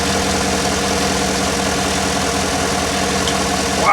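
A 5.3 LS V8 in a GMC idles steadily at close range, with a continuous low rumble and faint mechanical ticking throughout and no voices.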